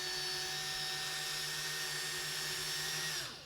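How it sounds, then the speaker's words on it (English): A power drill twisting wire into braided picture wire whirs steadily at high speed with a strong motor whine, then spins down and stops near the end. "I'm going to braid it myself using the power of the drill"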